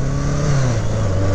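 A 1985 BMW K100RS motorcycle accelerating, its engine note rising and then dropping sharply at a gear shift before climbing again, loud and close with no voices.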